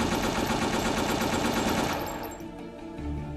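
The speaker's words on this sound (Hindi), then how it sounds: "आतंकी ने AK-47 से फायरिंग की जो पुलिसकर्मियों की पीठ पर लगी" AK-47 automatic gunfire in a crowded market street, a dense rapid burst of shots sustained and loud for about two seconds before cutting off into quieter, muffled street noise.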